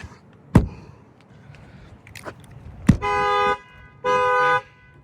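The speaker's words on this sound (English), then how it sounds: "I'm gonna bang on the other side, like I promised, and that will trigger the alarm." Two sharp bangs on a Dodge Durango trigger its factory alarm with a shock sensor, followed by two loud, steady electronic alarm blasts, each about half a second long, sounding close by.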